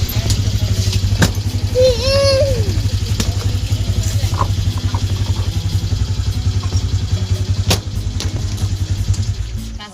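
A two-wheeler motorcycle rides along the road, its engine droning steadily and loudly throughout, with clattering road noise, a passing horn-like tone and faint background voices.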